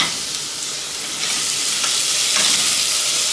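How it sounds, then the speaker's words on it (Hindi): Grated onions fry in a hot pan, giving a steady, close hiss of sizzling that swells slightly louder toward the end, with no voices. "अब मैं जो 2 प्याज को कद्दूकस की थी, अब इसमें डालकर मैं इसे फ्राई कर रही हूँ"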